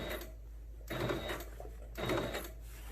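A sewing machine stitching a patch onto fabric runs in two short bursts of rapid mechanical whirring and clatter, separated by pauses with a low steady hum, close and moderately quiet.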